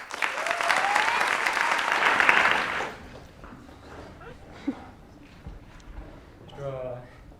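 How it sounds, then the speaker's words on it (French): Audience clapping for the speaker Arnaud at a French pleading contest's semi-finals and final, sustained dense applause from a full hall that fades after a few seconds, giving way to quiet room sound and a voice starting to speak. "acclamez Arnaud"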